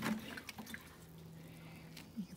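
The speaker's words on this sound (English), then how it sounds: "I'll continue to water this and show you. I want to get this in a soupy kind of mix, so this will pump all the air bubbles out." Water poured onto soil around the roots of a weather-damaged avocado tree, turning it into a soupy mix; faint trickling and dripping with a low steady tone underneath, quiet and close.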